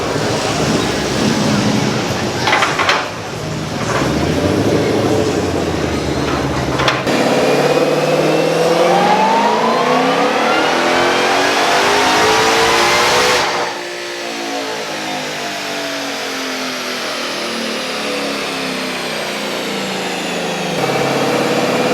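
A loud, close 2014 Ford Shelby GT500 SE engine revs hard on a dyno at a car show, its pitch climbing through gears in long sweeps, dropping and building again across several runs.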